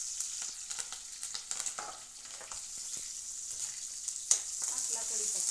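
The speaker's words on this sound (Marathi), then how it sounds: "टाकला कढीपत्ता हलवून घ्यायचं. परत याला परतून घ्यायचं." Tomatoes and curry leaves sizzle in a pan as they are stirred, a soft, crackly frying hiss with scattered clinks and scrapes of the spoon, fairly quiet and close.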